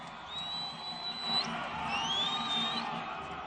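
A rally crowd in Nairobi cheers and claps for Raila Amolo Odinga. The noise is a steady, moderately distant roar, with high whistles rising and sliding over it.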